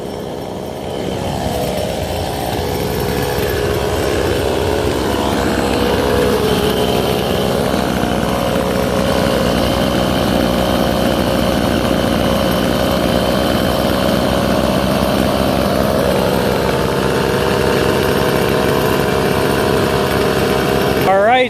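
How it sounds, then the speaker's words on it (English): Two-stroke weed wacker engines idling on a 400:1 oil mix, several small motors buzzing together in a loud, steady, slightly uneven drone that continues without a break, ending with a brief higher rev. "So they've been idling out here for about 10 minutes on 400 to 1."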